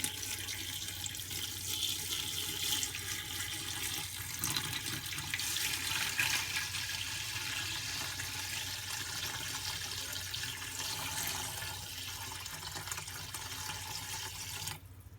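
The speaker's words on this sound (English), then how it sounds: "I'm gonna add some white vinegar, and I'm gonna add it until it basically covers up the peppers" White vinegar pours steadily over chopped hot peppers in a pot, a continuous splashing liquid rush close by that tapers off near the end, with no one talking.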